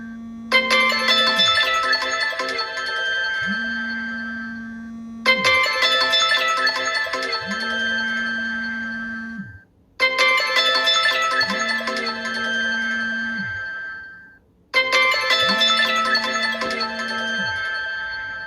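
A phone's lost-device alarm set off remotely through Microsoft Intune rings in four identical bursts of a few seconds each, separated by short gaps, with a bright melodic tone over a steady low hum, loud and close, with no talk.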